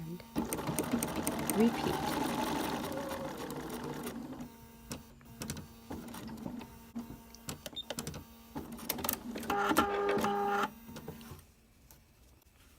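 Sewing machine stitching star points on a La Passacaglia quilt, with bursts of fast, close mechanical whirring that start and stop, separated by quieter handling, while someone speaks briefly.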